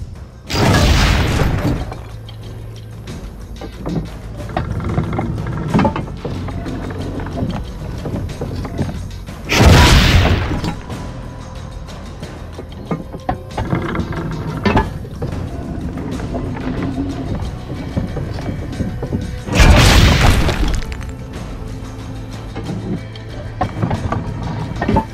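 Cannon fire in Assassin's Creed: three loud, deep booms roughly ten seconds apart, each echoing over a continuous rumbling battle background with no voices.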